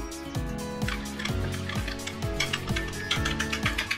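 A spoon working through yogurt mixed with turmeric, coriander, cumin and fried spice powder, giving repeated soft scraping and clinking strokes in a steady rhythm, close and fairly quiet, with no voices.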